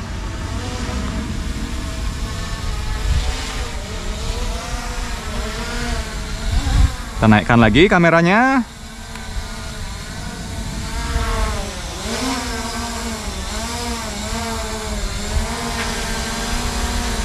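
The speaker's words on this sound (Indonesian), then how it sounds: "Oke, kita turunkan lagi sedikit drone-nya." An SJRC F11 Pro 4K drone flies nearby, its propellers giving a steady buzzing whine that shifts in pitch, with a louder warbling burst midway and a voice speaking briefly.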